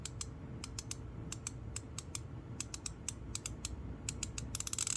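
ARES 72-tooth 3/8-inch offset comfort-grip ratchet being swung back, producing rapid bursts of fine, light pawl clicks in a steady rhythm, close and fairly quiet with no talking.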